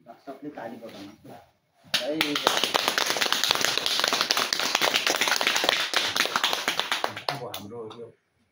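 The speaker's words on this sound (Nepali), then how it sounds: "सबले ताली बजाउनु" An audience applauds at the opening ceremony of a holy water site, a dense, steady burst of many hands clapping that lasts about five seconds, with people talking before and after it.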